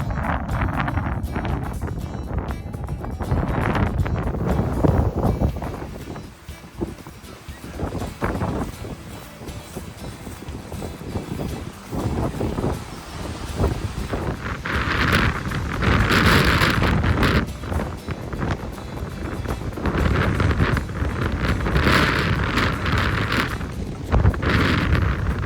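Strong wind buffets the microphone outdoors on a wet hillside trail between Queenstown and Scott's Gap in New Zealand, roaring steadily throughout with louder gusts surging in the latter half.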